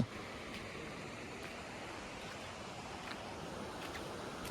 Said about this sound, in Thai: แวะมาน้ำตกแสงจันทร์